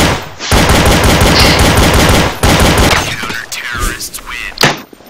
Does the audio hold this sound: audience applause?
no